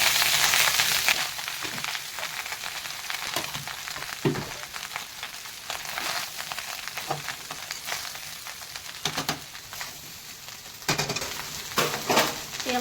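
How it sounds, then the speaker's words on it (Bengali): Spiced rice frying in a kadai for mixed fried rice, with a continuous loud sizzle, broken by occasional scraping and stirring clanks. "হয়ে গেছে ফ্রাইড রাইস ভাজা"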